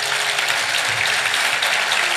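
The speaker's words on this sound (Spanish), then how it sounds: "déle un fuerte aplauso al Señor" A church congregation claps loudly for the Lord during a Spanish-language sermon, a steady, dense wash of applause sustained throughout with no voices standing out.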